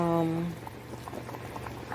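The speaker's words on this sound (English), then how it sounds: "We've got it at almost a full boil at the moment." Pot of bone broth made with distilled water at almost a full boil, bubbling and popping steadily up close, with a voice speaking briefly at the start.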